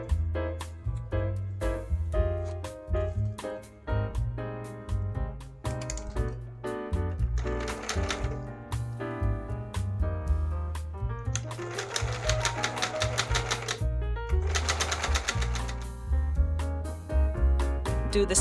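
Sewing machine stitching fursuit neck pieces together in rapid bursts of needle clatter, pausing and restarting, with faster sustained runs toward the end, close and clear with no talking.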